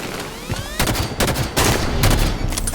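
Rapid sniper rifle shots in Halo 5, a 1v1 match, crack out as several loud, sharp blasts in quick succession with ringing tails, no talk over them.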